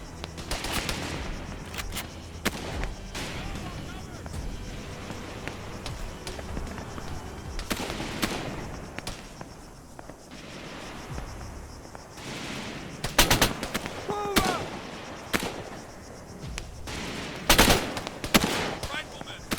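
Gunfire in the military game Arma 3: repeated bursts and single shots crack at varying distances throughout, with sharper, louder volleys near the end.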